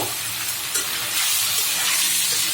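Gourd pieces go into a hot pan of fried chicken, bringing a bright sizzle and steamy hiss that swells after a brief clatter and continues steadily, close up.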